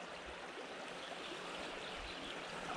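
A river swollen with lots of water rushes steadily in a dense, continuous broadband roar, heard from nearby along a trout-fishing stretch with no talk.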